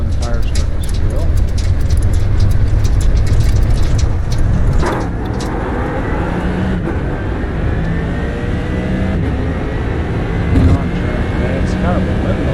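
A race car in the iRacing simulator gets up to speed, its engine note rising and sweeping in pitch before settling into a steady drone, loud and close throughout, no talking heard.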